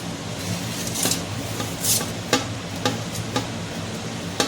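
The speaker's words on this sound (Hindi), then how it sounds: "अब इसमें सारे ये जो खड़े मसाले हैं ये डाल देंगे" Whole spices drop into onions frying in a pan for chicken biryani, giving a steady sizzle with scattered crackles and light clinks of stirring throughout.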